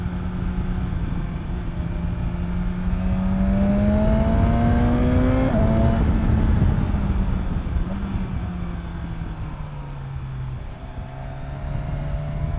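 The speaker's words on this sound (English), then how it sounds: "You hear that? The exhaust pops" A 2019 BMW S1000XR in Triple Black rides on the road, its engine droning steadily and its pitch rising and falling with the throttle. Exhaust pops and crackles mix into the drone, which stays loud and close throughout.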